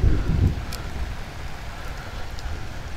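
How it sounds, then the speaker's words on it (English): Heavy rain pours steadily outdoors during a thunderstorm while fishing in New Jersey, a dense, constant hiss with a low rumble near the start, close and loud with no talk. "oh my gosh, straight raining"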